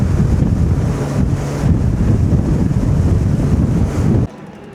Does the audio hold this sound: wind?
yes